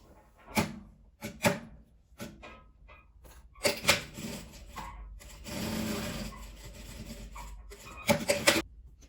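A sewing machine stitches fabric for a vertical school pencil case in short, uneven bursts of whirring, broken by pauses and small handling rubs.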